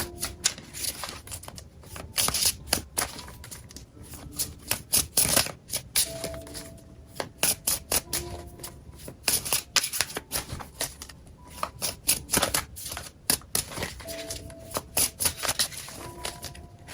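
Tarot cards shuffled by hand at close range, repeated crisp riffling bursts and flicks in an uneven rhythm over a quiet room, with no talking.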